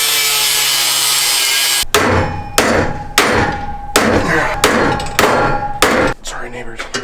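Repeated loud hammer strikes on metal while building a racecar, about six in quick succession, each a sharp clang with ringing decay, after a stretch of steady noise.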